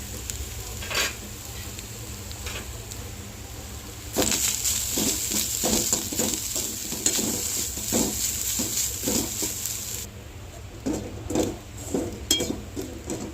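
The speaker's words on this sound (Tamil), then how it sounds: "அதே கடாயில் மீண்டும் கொஞ்சம் எண்ணெய் விட்டு இந்த தேங்காய் வச்சு அதில் போட்டு நல்லா பொன்னிறமாக வறுத்து எடுத்துக்கலாங்க" Grated coconut roasts in oil in a kadai with a continuous crackling sizzle that swells louder midway, punctuated by repeated metal spoon scrapes and clinks against the pan.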